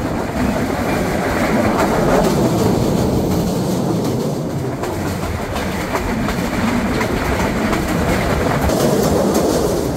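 Silkcity Express passenger train running between Dhaka and Rajshahi, a loud continuous rumble of wheels on rails with clickety-clack rhythm, heard close up without pause.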